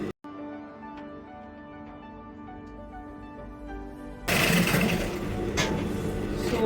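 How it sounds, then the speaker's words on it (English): A sewing machine runs a seam close to the edge of a free-flowing kaftan gown, starting with a quiet steady hum and becoming much louder and busier partway through, with continuous motor whir and no talking. "I'll sew it very close to the edge."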